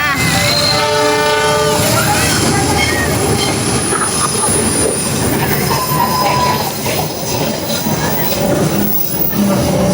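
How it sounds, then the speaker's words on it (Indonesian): An approaching train sounds its horn in a few sustained blasts near the start, then carriages rumble and clatter loudly past on the rails with faint voices underneath, in Purwakarta, Indonesia. "aya deui suara klakson kereta bade datang"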